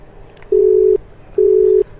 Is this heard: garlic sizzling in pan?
no